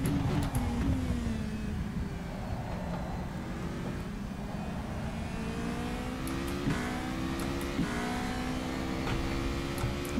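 Race car engine during a lap in the rFactor 2 racing game, a continuous loud engine note rising and falling through gear changes and revs, with no talking.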